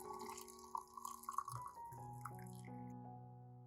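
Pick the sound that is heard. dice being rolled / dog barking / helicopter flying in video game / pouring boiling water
pouring boiling water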